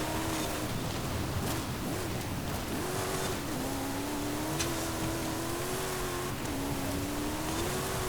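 A 2020 Land Rover Defender 110 X in Forza Horizon 5 drives off-road with a steady engine drone that rises and falls in pitch as it shifts and revs, loud and continuous, with no voices.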